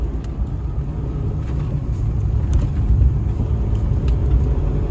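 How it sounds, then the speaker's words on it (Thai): Car engine pulling uphill on a steep, winding mountain road near the Thai–Myanmar border in Chiang Mai, a steady close low rumble that swells slightly as the throttle opens, with no talk over it. "ให้สัญญาณรถนะครับว่าเรากำลังจะขึ้นไปแล้วก็เติมคันเร่งส่งขึ้นไปนะครับ"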